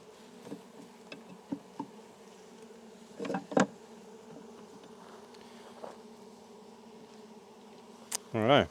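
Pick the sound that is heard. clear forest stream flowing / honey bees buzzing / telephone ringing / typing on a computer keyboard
honey bees buzzing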